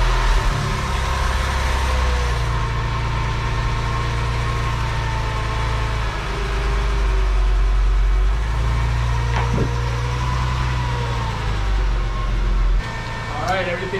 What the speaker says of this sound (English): I'm just gonna fire up the car, take it off the ramps